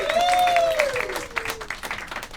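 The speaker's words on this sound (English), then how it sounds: "First of all, round of applause for your host, JJ, ladies and gentlemen." A comedy club audience at a roast battle in Tokyo applauds the host, a loud burst of clapping that gradually thins, mixed with whoops and cheers and a voice rising over the crowd.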